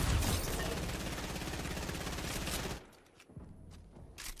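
Rapid, dense bursts of Fortnite video game gunfire fill the first few seconds, loud and continuous, then drop away to sparse clicks and a few scattered shots.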